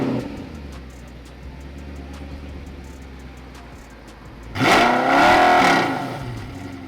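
A car engine in Tokyo turns over from a low idle hum and then rises into a loud, sustained rev before easing back; no one speaks.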